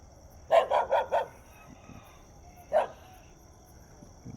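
A dog barks at night, four quick barks in a row and then a single bark after a pause, moderately close over a steady chirp of crickets.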